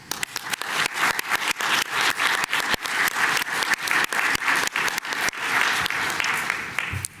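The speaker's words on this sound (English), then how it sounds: "I want to give a round of applause to everybody that has helped me and all of you in the audience for being a part of this" An audience at a talk breaks into sustained applause, dense crisp clapping with sharp individual claps standing out, loud and steady throughout with no voices.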